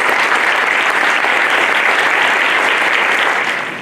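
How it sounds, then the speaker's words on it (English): A crowd applauds loudly and steadily at a stadium grandstand dedication ceremony, a dense wash of clapping that starts to fade near the end. "will you please join me in a round of applause"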